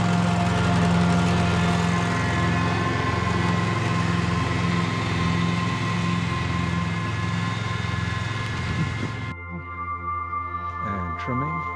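An engine-powered trimmer running steadily on an estate, loud and close with a constant droning whine, cutting off near the end to leave quieter background sounds.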